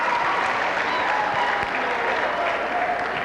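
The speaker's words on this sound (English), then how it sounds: "how about a round of applause for Lisa Ling and Crystal Green from Channel 1" Student council conference audience gives a round of applause for Lisa Ling and Crystal Green of Channel One, a continuous, full clapping from a large room of students sustained at even loudness throughout.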